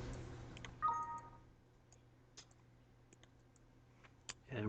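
A handful of sparse, sharp computer mouse clicks sound up close against a faint hum, spaced irregularly with quiet gaps between them.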